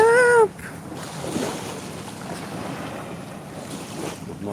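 Sea waves and wind at a shore: a steady wash of surf and wind roars on without a break, opening with a brief tonal squeal, and rough wind buffets the microphone.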